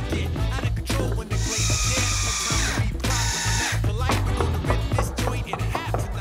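A power drill drives into a timber bracket during a home repair job, with two sustained whirring bursts over about two and a half seconds, loud and close, over steady background tones.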